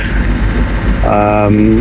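A sailboat's inboard engine drones steadily at close range while motoring down a river, a low continuous hum with a brief tonal whine rising partway through.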